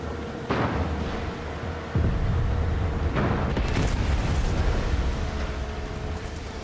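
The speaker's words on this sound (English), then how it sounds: "Check out the fireworks!" Fireworks go off in Far Cry 6: several deep booms land one after another over a heavy, continuous rumbling roar, loud and close, with no talk.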